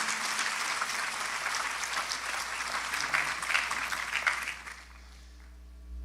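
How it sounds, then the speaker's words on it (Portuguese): A church audience gives sustained applause for the guest panelists, a broad wash of many hands that fades out near the end into a quiet hum. "Eu vou pedir uma salva de palmas para Jesus, por esses homens de Deus."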